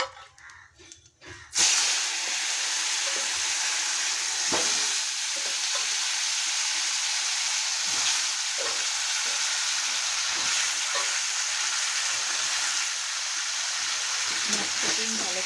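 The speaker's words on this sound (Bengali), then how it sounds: "জিরে আমার ভাজা হয়ে গেছে, এখন আমি কেটে রাখা আলু দিয়ে দেবো।" Cut potatoes hit hot oil already holding fried cumin seeds, whole chillies and bay leaves, bursting into a loud, steady sizzle that carries on continuously after a quiet start.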